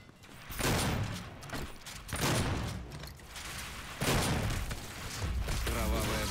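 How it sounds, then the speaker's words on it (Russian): Gunfire in the Doom video game comes as dense rapid bursts with booming impacts and mechanical clatter, loud and continuous throughout, with a voice talking over it. "Ой, там здесь стреляют."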